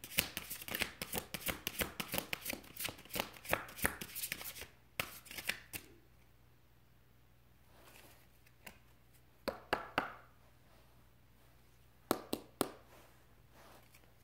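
Tarot cards shuffled by hand in rapid riffling bursts, a dense run of crisp snaps for several seconds, then scattered softer card slaps and pauses, close and fairly quiet with no talk.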